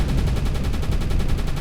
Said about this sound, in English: I need you to shoot at the aircraft.